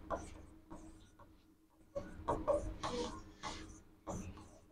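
Chalk or marker scratches across a classroom board in short strokes and taps, faint and fairly close, with quiet pauses between strokes and a voice speaking softly in the background.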